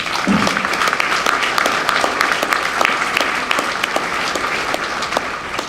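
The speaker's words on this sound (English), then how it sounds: "let's give her a round of applause" A crowd applauding steadily throughout, dense clapping that stays loud and even from start to finish.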